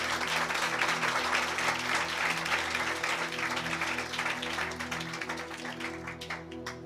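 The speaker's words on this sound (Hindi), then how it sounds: "Why no clapping then?" An audience applauds throughout a spiritual message gathering, a dense steady clapping that fades slightly toward the end, with a faint voice underneath.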